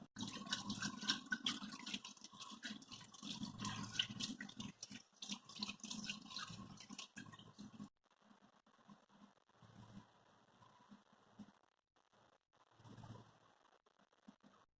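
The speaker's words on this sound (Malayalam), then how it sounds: "അപ്പം നമുക്കിതൊന്ന് കഴുകി നോക്കാം" Tap water running into a sink while a face pack is washed off, loud and steady at first, then stopping and giving way to quieter splashes and dripping.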